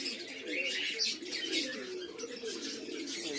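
A loft of flying and fancy pigeons at feeding time fills the air with steady, overlapping low cooing from many birds close by, with brighter chirps and rustling layered above it, and nobody speaking.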